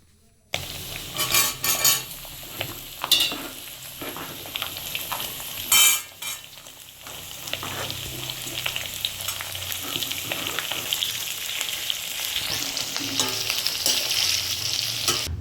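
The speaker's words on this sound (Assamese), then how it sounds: "এতিয়া মাংসখিনি ধুনীয়াকৈ ভাজি ল'ম তেলটো ওলাবলৈ দিম অকণমান" Pork frying in hot oil in a pan, a steady close sizzle with scraping and clinking of a metal utensil as the meat is stirred, louder bursts of stirring early on, no voices.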